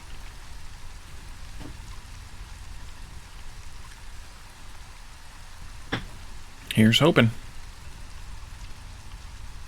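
Steady light drizzle patters in the Against the Storm video game, a soft even hiss running throughout, while someone briefly speaks near the end over it.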